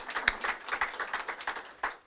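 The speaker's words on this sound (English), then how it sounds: "Let's give both of these folks a round of applause." Scattered applause from an audience at a governor's announcement, a brief patter of claps rising and fading in uneven bursts.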